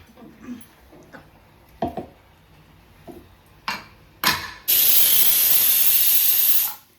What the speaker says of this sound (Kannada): ನೋಡಿ ಒಂದು ವಿಜಿಲ್ ಬಂತು.